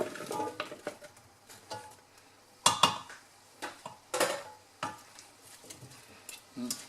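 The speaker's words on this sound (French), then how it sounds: "Et là on remue, la température va monter" Veal being stirred in a pot with white wine, a spoon scraping and clinking against the metal in irregular bursts, with a faint sizzle underneath.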